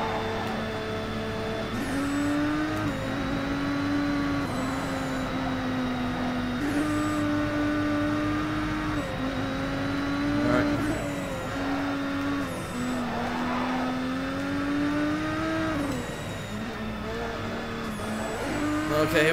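A Nissan Skyline GT-R engine in a touge racing video game drones and revs continuously, pitch climbing and dropping as it shifts slowly through gears, steady and fairly loud with no talking.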